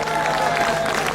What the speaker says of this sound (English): Come on, give her a big cheer.